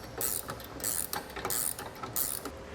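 Bolt with a nylon lock nut being tightened on a Demco Hijacker Autoslide fifth-wheel hitch installed in a 2021 Chevrolet truck, giving repeated bursts of ratchet clicking at a steady rhythm, close and moderately loud, with no talking.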